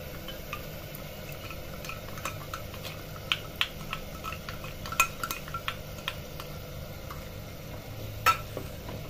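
Onions stirred with beaten yogurt in a pan for mutton pyaaz curry, a steady low sizzle with repeated light spoon scrapes and clinks against the metal, close and alone.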